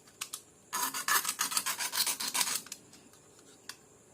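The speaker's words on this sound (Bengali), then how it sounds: "তো গ্রাউন্ড তোলার জন্য আমি আসলে এখানে একটু ঘষে নেব।" Scraping with a rasping tool on the copper wire of a 45-0-45 V, 15 A transformer secondary winding: a dense run of close, repeated rasping strokes lasting about two seconds, with a few lighter scrapes before and after.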